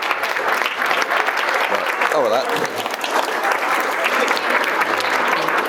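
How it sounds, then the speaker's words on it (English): A large conference audience gives a loud, sustained round of applause for a group of experts, dense clapping throughout with a few voices speaking over it. "And another huge round of applause."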